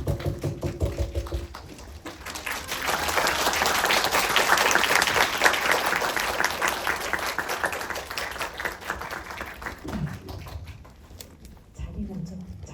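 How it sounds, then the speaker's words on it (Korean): Audience applause fills the room as guests are welcomed to their seats at a cinema guest talk, a dense wash of clapping that swells and then tapers off, with a few voices heard at the edges. "자리 들어오시면 큰 박수 부탁드릴게요"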